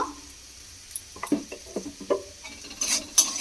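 A spoon stirs turmeric and spices into a potato mixture in a pan, making soft scattered scrapes and taps, quiet and close with a faint sizzle behind.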